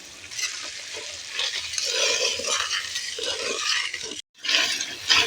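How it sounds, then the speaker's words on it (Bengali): Spicy masala with salt frying in a pan for a sesame dish, giving a steady close sizzle laced with scraping stirs that cuts out briefly near the end before resuming. "মশলাটাকে ভালো করে ভেজে নিয়েছি"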